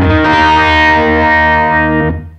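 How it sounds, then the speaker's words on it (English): Distorted electric guitar run through an echo pedal's filter at minimum delay time, giving a fake wah-pedal tone; one loud sustained chord rings with a sweeping, swelling timbre before fading. "you end up kind of your fake wah pedal type sound"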